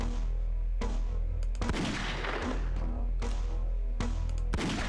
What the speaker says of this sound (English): So now I have my gun ready.